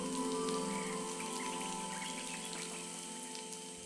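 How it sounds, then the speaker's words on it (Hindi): Proboscis monkeys urinate from the trees in a mangrove forest, making a scattered pattering like raindrops falling on leaves and water, a continuous fine spatter at steady moderate loudness with no talking. "लेकिन नहीं, ये प्रोबोसिस मंकीज का पेशाब है, क्योंकि वो झपकी लेने के बाद ऐसा करते हैं।"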